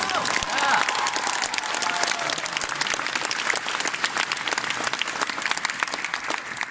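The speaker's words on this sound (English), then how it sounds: "So give them a round of applause for all of our panelists this year and our guests" An audience at the Anirevo Summer 2018 anime convention opening ceremony claps for panelists and guests, a loud, continuous roar of applause that holds steady throughout.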